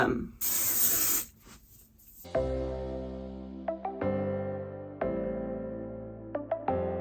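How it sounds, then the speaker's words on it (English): Smith Flexible Hold hairspray hisses from an aerosol can onto wavy curly hair in a couple of near, steady bursts lasting about two seconds, followed by soft tonal music. "Recently, I picked up the Smith Flexible Hold Hairspray, and I wanted to give this a try."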